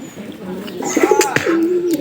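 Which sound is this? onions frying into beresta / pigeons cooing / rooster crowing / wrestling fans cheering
pigeons cooing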